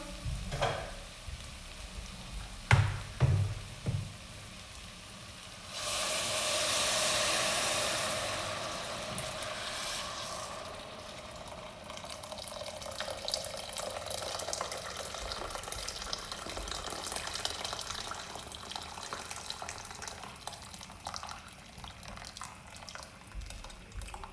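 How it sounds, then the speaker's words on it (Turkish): Water pours into a soup pot of carrot vegetable soup with a rushing splash that settles into a steady bubbling sizzle, after a few clanks early on. "Şimdi suyunu ekliyorum."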